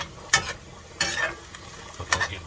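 A spoon stirs browning lasagna meat filling in a hot pan, three short scraping sizzles about a second apart, close and clear with no talking.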